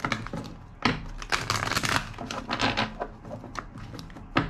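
Playing or tarot cards being shuffled by hand make repeated crisp riffling and slapping bursts, close and fairly loud, with no talking.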